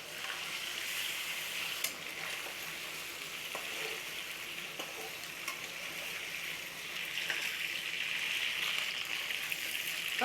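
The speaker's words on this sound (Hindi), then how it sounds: "ये चिकन फ्राई कर लेंगे मैं।" Chicken frying in oil in a pan, a steady, close bright sizzle with scattered pops and crackles that swells slightly louder toward the end, no voices.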